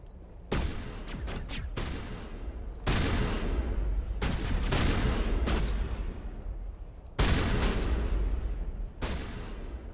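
Loud bursts of shotgun fire in the sci-fi shooter Mass Effect, several heavy blasts in close succession with ringing tails and brief gaps between volleys.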